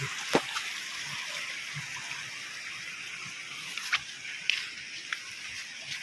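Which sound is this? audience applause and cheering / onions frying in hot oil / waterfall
waterfall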